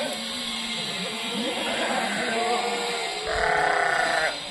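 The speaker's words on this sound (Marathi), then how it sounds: "बघा शेळ्या एकदम एक नंबर क्वालिटी" Kathewadi goats bleat up close, and several wavering calls overlap in a loud, nasal chorus. A sharper, higher bleat stands out near the end.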